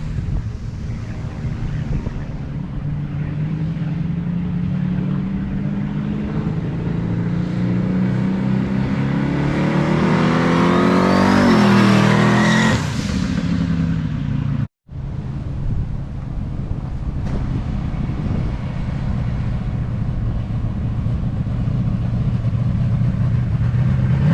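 Chevrolet S-10 Sub-Zero truck engine running loud and close, rising in a long rev before settling back to a steady raised idle, with heavy wind buffeting the microphone throughout.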